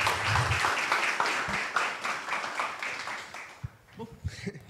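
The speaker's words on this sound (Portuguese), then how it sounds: "Eu acho que ele merece uma salva de palmas, né?" A conference audience at a closing session on energy transition and green hydrogen gives a fairly quiet round of applause that gradually dies away to scattered claps.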